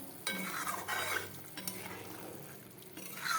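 Spicy oily fish curry broth for boal and rui fish bubbles in a pan, a soft, quiet, irregular simmering sizzle with faint scraping bursts.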